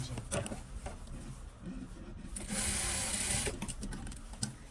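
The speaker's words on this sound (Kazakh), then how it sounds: "енді мына жерін қайтып бастап тігіп қоямыз." A sewing machine stitches a skirt made from denim jeans fabric, its steady mechanical whir running continuously and swelling louder for a stretch mid-clip before easing back, close up with no talking.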